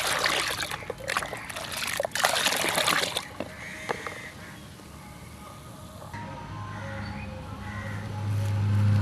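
Water mixed with oil cake poured from a bucket onto garden petunia plants, splashing and trickling loudly at first, then fading to a softer trickle as birds call in the background.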